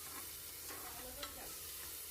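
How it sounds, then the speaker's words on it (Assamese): Tomatoes fry in a spoonful of oil inside a pressure cooker, a soft, steady close sizzle with light stirring scrapes and one small clack, quiet and even throughout. "তাতে বিলাহীখিনি প্ৰথমতে ভাজি লৈছোঁ"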